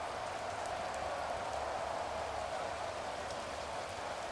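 Steady simulated rain hisses without a break through an American football video game played in wet weather, a dense, even wash of drops at constant volume with no voices over it.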